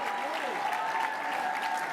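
A banquet-hall audience at a charity dinner applauds members of the Sisters of St. Joseph, dense steady clapping throughout with a faint tone and murmur underneath.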